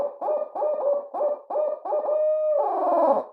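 A Ninja Owl mouth call imitates a barred owl's eight-note hoot, with a run of close, loud, rhythmic hoots ending in a longer, drawn-out wavering note.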